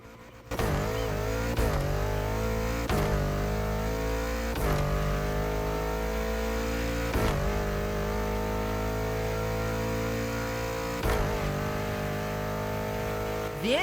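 A car fitted with the Rumble Tumble Backfire engine swap in The Crew Motorfest racing game revs in a continuous, loud drone, with pitch climbing through gears and sharp dips at each of several shifts.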